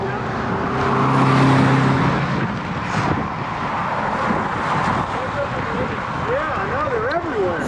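Cars pass by on a busy road in a steady broadband rush of traffic and wind noise, with people talking over it.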